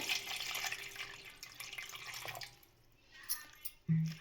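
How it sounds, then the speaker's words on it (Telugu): Half a litre of water runs and splashes steadily into a cooking pot, a broad hissing pour that fades out, followed by a couple of brief clinks near the end. "గిన్నె తీసుకొని అందులో ఒక 1/2 లీటర్ వాటర్ అయితే పోసుకుంటున్నాను"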